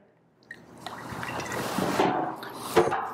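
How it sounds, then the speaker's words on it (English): Olive oil poured into a pan makes a soft liquid trickle with a few light clinks of the pan, close and fairly quiet, with no talking. "Now I'm going to add a little bit of olive oil just to this pan here."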